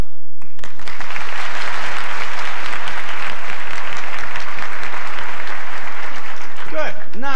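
A studio audience applauds in dense, sustained clapping that fills the room, loud and continuous for several seconds before thinning out at the end.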